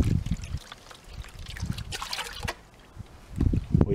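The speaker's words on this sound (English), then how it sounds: "the fine stuff might have stuck to some of this gravel, so it'll wash off now in the pan" Water sloshes and trickles over gravel being washed in a gold pan, with soft splashes and dribbles coming in uneven bursts close by, plus a few brief gritty scrapes.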